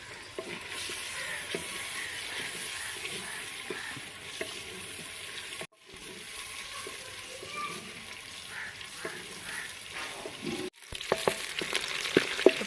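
Onions fry in a pan for a mixed vegetable dish, crackling and sizzling steadily at close range with occasional stirring scrapes and two brief cuts in the sound.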